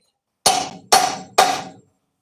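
A homemade steel chisel is struck by a hammer as it cuts into steel: three sharp, ringing blows spaced about half a second apart, close and loud, with no talking.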